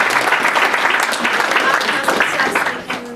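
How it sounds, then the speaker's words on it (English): Convention crowd at a fan Q&A applauding, loud dense clapping with faint cheering mixed in, close and sustained for a few seconds, a voice briefly audible beneath. "Give yourselves a round of applause."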